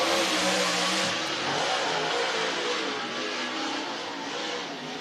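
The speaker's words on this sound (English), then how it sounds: "Cade Loudy, Rogersville Rocket in the 126 car, picking up the green flag here in the front straightaway." A race car engine roars continuously as it takes the green flag and laps the track during an oval race at Whynot Motorsports Park, loud and steady with slight swells.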